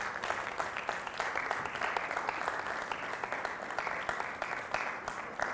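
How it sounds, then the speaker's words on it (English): A seminar audience at a Hilton in Barbados claps steadily in a continuous round of applause, moderately distant and even throughout. "Give yourselves a round of applause."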